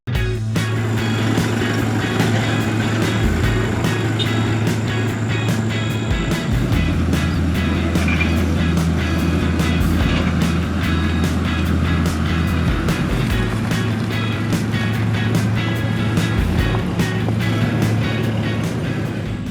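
A vehicle on BFGoodrich All-Terrain KO2 tires drives on dirt at an off-road site in Pagedangan, BSD, with a steady engine drone and rumbling road noise, punctuated by clicks and knocks.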